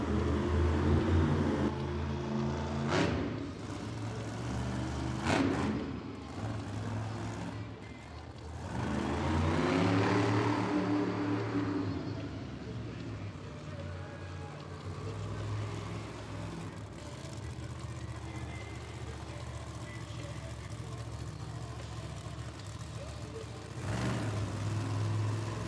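The Mayhem monster truck at a Monster Jam stadium event in Albuquerque, its engine rumbling and swelling into revs, with the strongest roar in the middle, heard at a distance over broad arena ambience.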